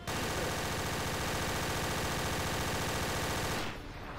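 Dense automatic gunfire from several weapons in a Counter-Strike: Source Zombie Escape match rattles on continuously and loudly for about three and a half seconds, then cuts off.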